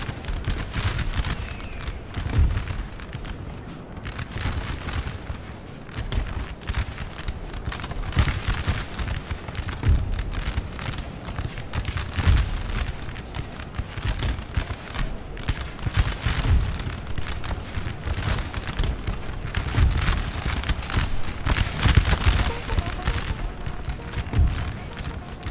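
Cannon booms from 3-pound foot artillery in a Napoleon: Total War mod battle, repeated heavy thumps and crackling gunfire over a continuous roar of combat, some shots close and loud, others farther off.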